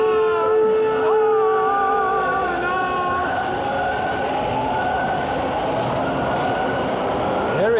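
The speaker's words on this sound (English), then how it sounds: "I can hear a train coming." A TTC subway train arriving at Lansdowne station at night, with loud, sustained rumble and high squealing wheels and brakes, steady throughout and echoing in the station.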